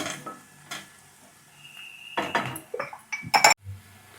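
Onions and turmeric frying in oil in a pan, with a spoon scraping and clinking against the metal in short bursts, soft sizzle underneath, and a louder cluster of stirring knocks near the end.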